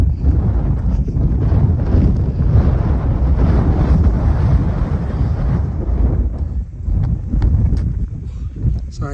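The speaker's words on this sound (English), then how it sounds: "Sorry, wind's blowing me." Strong wind roars steadily across the microphone on the steep, cloud-covered Saddleback Mountains along the Appalachian Trail, a loud continuous low buffeting with gusty surges and no talk.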